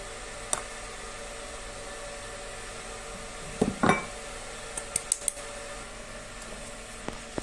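Three cups of flour tipped into a bowl of yeast and water for economical homemade pizza dough, heard as a soft rustling pour and scrape with scattered light clinks of utensil against bowl over a steady quiet hiss, no voices.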